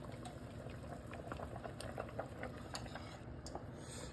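Thick thickener glugging and splattering into a pot of ham and potato soup, with small wet plops and a steady bubbling simmer underneath, close up.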